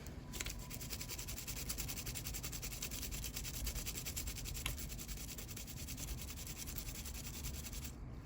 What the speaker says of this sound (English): you just want to scrub away on it. just scrub at it.